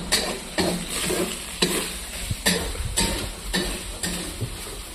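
Frying oil in a hotel kitchen crackles loudly while onion is added and stirred, with rhythmic scraping strokes about every half second and faint metallic clinks.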